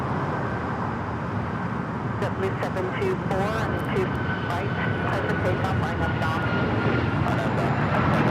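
An Alaska Airlines airplane taking off at LAX makes a steady, loud engine rumble beneath a man's ongoing chatter, with faint traffic noise mixed in.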